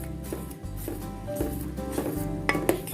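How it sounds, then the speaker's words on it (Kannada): Ginger, turmeric and peppercorns stirred into milk boiling in a pot, giving steady low bubbling with soft scraping and light clinks of a spoon against metal throughout. "ಅದ್ರ ಜೊತೆ ಅರಿಶಿನ ಹಾಗೆ ಶುಂಠಿ ಇದೆಲ್ಲದನ್ನು ಹಾಕಿ ಕೈ ಆಡಿ"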